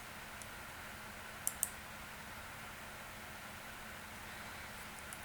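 A single faint click of a computer mouse in a quiet room over a steady low hiss, with a second soft click right after it.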